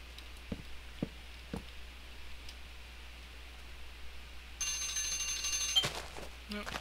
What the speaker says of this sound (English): Oh, there's my timer, guys.